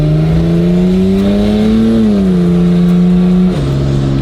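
Turbocharged VL wagon engine pulling hard under acceleration, a loud steady drone rising and easing, then a sharp drop in pitch near the end as the wastegate opens and boost releases.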